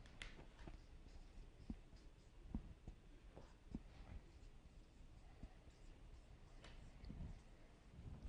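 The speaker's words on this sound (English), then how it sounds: "he's writing a lot" A pen writes on paper in quick, soft scratching strokes with occasional taps, faint and close in a quiet room.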